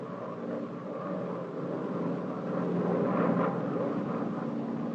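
Military transport planes come in over a drop zone with a low, continuous droning rumble, distant and fairly faint, swelling slightly as they approach.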